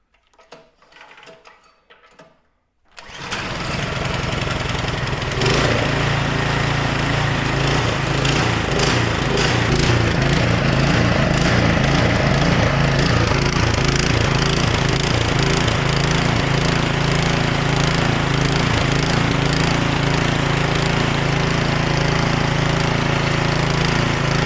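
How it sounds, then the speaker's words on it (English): A snowblower engine, just back from carburetor cleaning and coil gapping, catches after a few quiet seconds of handling, then roars loud and close with a steady, slightly uneven chug. "Let's see how it runs now."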